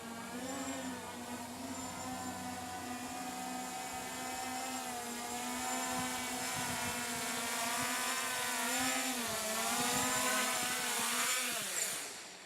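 MJX Bugs 3 quadcopter drone propellers whine in a steady, loud high-pitched buzz as it comes in to land, the tone wavering and rising toward the end before cutting off abruptly.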